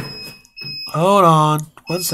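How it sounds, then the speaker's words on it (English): Fire alarm going off for a maintenance check, a steady high electronic tone sounding in the background while someone speaks briefly over it. "That was the fire alarm."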